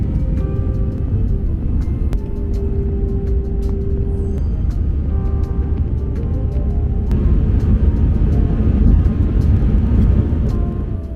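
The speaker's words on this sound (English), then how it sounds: "the plane suddenly moves" A China Eastern Airlines passenger jet beginning to roll on the tarmac, heard from inside the cabin as a loud, steady engine roar and rumble with faint clicks and tones over it.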